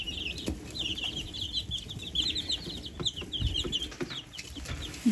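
A flock of young Brahma and jumbo chickens cluck and chirp continuously nearby, a busy chatter of overlapping calls with occasional rustling.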